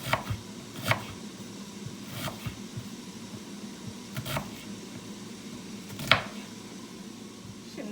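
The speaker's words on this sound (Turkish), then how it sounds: "ben 2 adet büyük boy soğanımı şöyle 3-4 eşit parçaya bölüyorum" A knife chops two large onions into three or four pieces each on a cutting board in a home kitchen, a few spaced, crisp strikes over a low steady background hum without talk.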